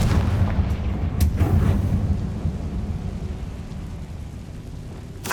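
The Confringo blasting curse in Hogwarts Legacy goes off as a heavy, booming explosion with a deep rumble, followed by a couple of sharper cracks and a long, rolling low-frequency decay.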